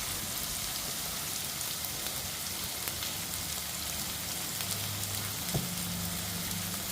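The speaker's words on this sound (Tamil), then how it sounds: "எண்ணெய் ஊற்றி வெங்காயம் போட்டு சிவக்க வைக்கிறேன்" Onions sizzle in hot oil with salt in a pan, a steady close hiss and crackle like light rain, even and unbroken with one small knock near the end.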